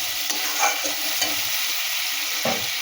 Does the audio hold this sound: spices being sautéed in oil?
yes